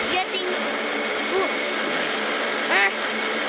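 Steady airplane engine drone from a flight video game, continuous and fairly loud, with a player's voice briefly talking over it.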